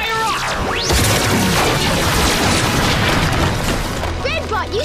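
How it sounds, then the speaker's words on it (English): A robot's blaster arm fires in a children's action show, a loud booming explosion with crashing debris sustained over several seconds, layered with dramatic effects and rising whooshes. "Blaster arm, fire"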